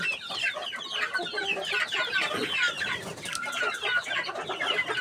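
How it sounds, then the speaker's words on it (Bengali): Desi chickens on a small farm cluck and chatter continuously at close range while pecking at finely chopped grass in the afternoon, with many overlapping calls. "আমরা প্রতিদিন মুরগিকে বিকেলবেলা ঘাস খাওয়াইতে থাকি।"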